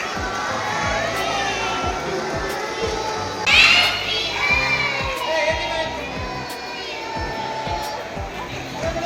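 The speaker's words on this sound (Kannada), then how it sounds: "ಎಲ್ಲರೂ ಜೋರಾಗಿ ಚಪ್ಪಾಳೆ ಹಾಕಿ ಹ್ಯಾಪಿ ಬರ್ಡೇ ಸರ್ ಎಲ್ಲ ಒಟ್ಟಿಗೆ ಹಾಡಬೇಕೀಗ" Children at a birthday celebration clapping together while a crowd of young voices sings and shouts, with a steady beat of claps under the lively group noise.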